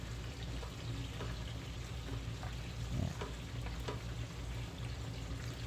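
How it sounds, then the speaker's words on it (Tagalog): Taro leaves (laing) frying in a pan as they are stirred, a dense steady sizzle with occasional soft scraping knocks from the utensil, close and continuous without speech. "Haluin po natin."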